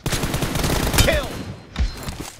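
Rapid gunfire in a PUBG team deathmatch on a glacier map, dense bursts of close, loud shots with a sharp crack near the middle and a brief lull before more fire.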